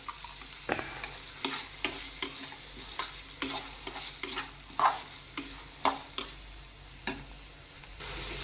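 Soaked chana dal fries in a pan under a soft steady sizzle while a spoon stirs it, scraping and tapping the pan in regular strokes close by.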